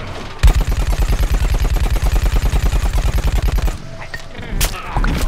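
Rapid automatic gunfire in the video game Plants vs. Zombies: Garden Warfare, a loud, steady burst of about three seconds of evenly spaced shots, followed by scattered game effects and a few isolated impacts.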